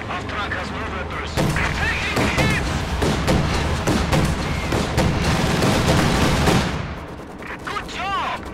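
Airstrike in Company of Heroes 2: a long, loud run of overlapping blasts and gunfire-like booms rolls on for several seconds before easing off, while in-game voices shout and radio chatter sits underneath.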